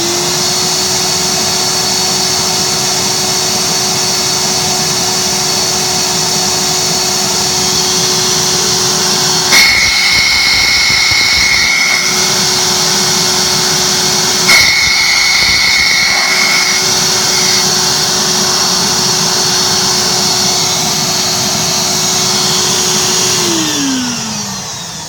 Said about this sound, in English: Now pay attention to how quiet it is.